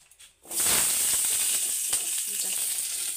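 Drumstick (moringa) pods dropped into hot oil in a wok burst into a loud, sustained sizzle that starts abruptly and hisses steadily close by, with faint stirring taps; no talk.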